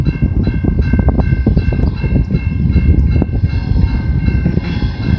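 Via Rail passenger train 71, led by engine 910, rumbles steadily past at Colborne Street on the Dundas subdivision in London, Ontario, a loud, continuous roar with rhythmic wheel clatter and ringing tonal hums throughout.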